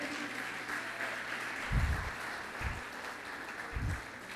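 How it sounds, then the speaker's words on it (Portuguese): A church congregation applauding in a few short, soft bursts, a distant patter of hands over a quiet, reverberant room with no talking. "Glórias a Deus, e aplaude o Senhor Jesus"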